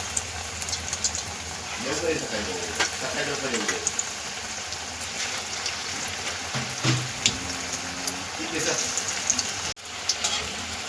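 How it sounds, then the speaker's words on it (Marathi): Steady crackling sizzle of bread pakoras frying in hot oil in a kadhai, continuous throughout, with a voice talking faintly underneath. "कढईमध्ये तेल तापायला ठेवलं होतं। आता आपण हे ब्रेड असे व्यवस्थित असे टाकून द्यायचे हलक्या हाताने।"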